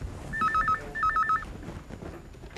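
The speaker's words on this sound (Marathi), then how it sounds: "तुझ्या टेबलावरचा फोन वाजतोय, उचल जरा तो." A desk telephone on an office table rings in two quick bursts of an electronic trilling tone, moderately loud, with a faint room hum underneath and no talk.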